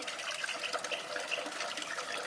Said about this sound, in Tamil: இன்னும் இதெல்லாம் தண்ணி ஊற்றி நான் திருப்பி கழுவிடணும்